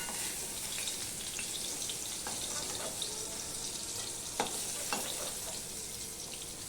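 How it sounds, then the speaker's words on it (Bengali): Steady, crackling sizzle of eggplant frying in hot oil runs throughout, with a few faint clinks and taps on top and no talking. "দেখো বেগুনগুলো ভাজা হয়ে গেছে এবার আমি এগুলো তুলে নেব"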